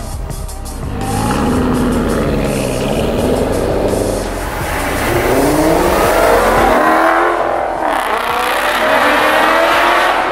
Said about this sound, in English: it's just the EB Works 2¾-inch exhaust coming out of the back of this thing